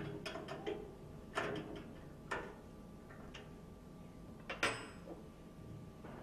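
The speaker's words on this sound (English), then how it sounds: "Screw tight with a spanner." A spanner tightens a screw nut onto a tube on an instrument, giving quiet, close metallic clicks and ratchet-like ticks at irregular intervals, with a sharper tick near the end, over a faint steady hum.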